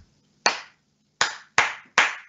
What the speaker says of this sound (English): they could do a clapping pattern.